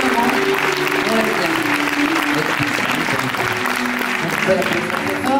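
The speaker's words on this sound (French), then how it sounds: "Donc on peut applaudir très très fort." A theatre audience at a live French concert applauds loudly and steadily, a dense wash of clapping with crowd noise sustained throughout and faint tonal music underneath.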